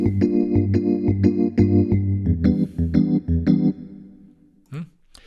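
Hip hop soul electric piano loop plays rhythmic chord stabs with a low bass line, several bars of repeated chords, then fades out, followed by a brief soft note.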